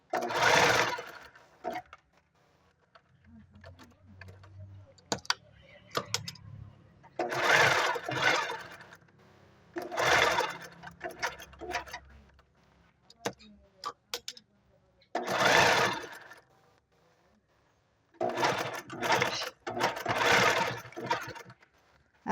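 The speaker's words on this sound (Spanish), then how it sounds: "cosemos del lado al revés. Cosemos del lado al revés. Cosemos de esta parte." Sewing machine stitching fabric coin purse pieces in short bursts of rapid whirring at close range, separated by pauses; quiet speech can be heard between the runs.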